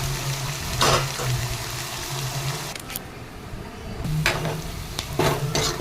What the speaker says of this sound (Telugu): చూడండి, ఇప్పుడు వీడియోలో చూస్తున్న విధంగా మంచిగా వేయించుకోవాలి.